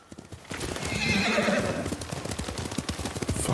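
Horse in the Ghost of Tsushima video game: a clear whinny rises over rapid clip-clop hoofbeats that continue at a steady trot, close and prominent.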